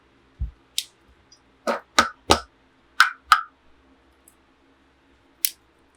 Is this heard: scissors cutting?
yes